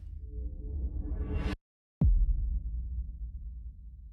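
An offset hit sample from the VIR2 Phoenix virtual instrument: a rising, swelling riser that cuts off abruptly, then after a short silence a deep booming impact that decays slowly, heard alone.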